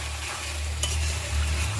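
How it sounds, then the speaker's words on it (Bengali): Chicken pieces with peas sizzle and fry in a pan while being stirred and turned, a steady close scraping and crackle with no voices. "দেখো কষতে নিয়েছি, ভালো করে ভাজা করে নিচ্ছি।"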